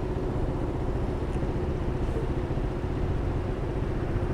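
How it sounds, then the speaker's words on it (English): Steady engine drone of a motorcycle coming up from behind, splitting lanes on New York's West Side Highway, even and continuous throughout, without a clear rise or pass-by, over constant road noise. "I can hear a motorcycle coming up behind,"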